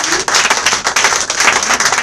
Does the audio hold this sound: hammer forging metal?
no